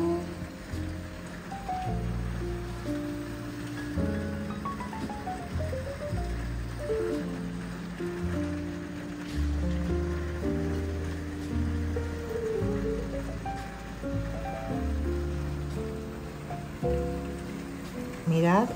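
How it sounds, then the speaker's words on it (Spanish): Heavy rain pours onto a flooded terrace, water gushing and splashing from an overflowing drain in a steady, close wash of sound, with tonal melodic sounds running over it throughout. "Tenemos la terraza completamente inundada, la salida del agua"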